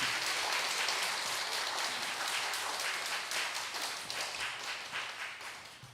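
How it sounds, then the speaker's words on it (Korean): Congregation applauding in a church during a Sunday afternoon worship service to welcome a pastor, a steady wash of many hands clapping that slowly thins and fades toward the end. "박수로 환영해 주시기 바랍니다"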